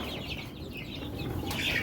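Chickens cluck softly and continuously close by in a coop with chicks, with a brief higher squawk near the end.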